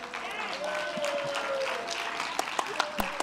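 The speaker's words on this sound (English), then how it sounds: "can we give our speakers another round of applause as we close this?" Audience applause rings out at the CATHSSETA Sector Skills Conference to thank the speakers, a steady wash of clapping throughout with a sustained tone underneath and a few sharper claps near the end.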